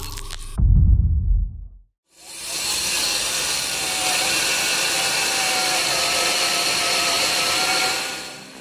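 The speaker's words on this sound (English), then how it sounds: "This saw, powered by a 3-kilowatt motor and inverter, does just that. Watch as it adjusts to the rhythm of the wood" A custom firewood saw driven by a 3 kW motor with an inverter cuts through wood. A brief low thud and a pause come first, then a loud, steady high-pitched whine and buzz of the blade that holds and fades at the end.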